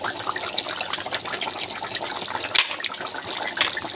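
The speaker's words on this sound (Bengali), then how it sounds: "ঝোলটা ফুটতে শুরু করে দিয়েছে" A pan of Bengali puti fish curry with potatoes boiling on the stove, giving a steady bubbling, watery simmer with faint pops and no talking.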